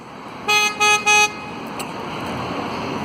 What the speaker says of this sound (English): This guy's honking for some reason.